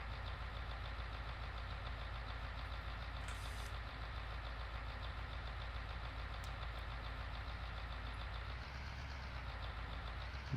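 A large farm vehicle's engine idles and rumbles at a steady low pitch while it backs slowly out of a shed in Farming Simulator 19, a continuous mechanical drone heard close with no voices.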